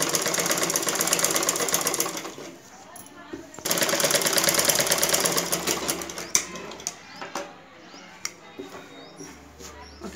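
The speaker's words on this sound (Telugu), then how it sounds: "ఈ విధంగా రౌండ్గా కరెక్ట్గా తీసుకొని మనం స్టిచ్ చేసుకుంటూ రావాలి." A sewing machine stitches a dress or blouse in quick rapid bursts, pausing between runs, with someone speaking alongside the whirring needle.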